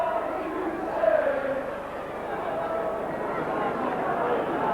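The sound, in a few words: rugby league match crowd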